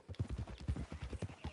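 Horse hooves clip-clopping at a steady ride in Red Dead Redemption 2, a continuous rhythmic run of close, even hoofbeats with no talk over them.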